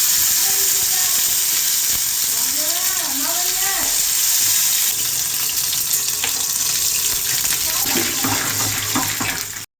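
Water poured into a hot pan of sizzling cumin seeds and garlic-ginger paste, giving a loud steady hiss and bubbling sizzle throughout, with some faint background voices and clatter.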